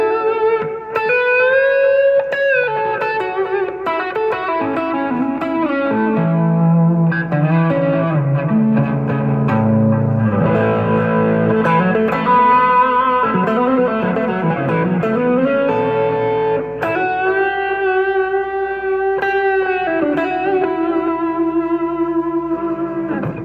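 Electric guitar playing a sustained lead line through compressor, low drive and a warm analog long delay, notes trailing off into repeating echoes that blend together, loud and continuous.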